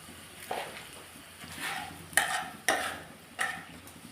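Flour stirred into butter and white oil with milk to make a white sauce in a pan: a few soft scraping strokes, each swelling and fading, close and fairly quiet, with no talk.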